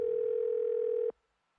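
A phone in the horror game Evil Inside sounds a single steady electronic tone for about a second, loud and close, then cuts off abruptly into near silence.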